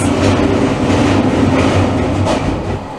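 A loud, steady rumble heard from inside a luxury train in India, with deep low-frequency drone and rattling, continuous throughout, no voices.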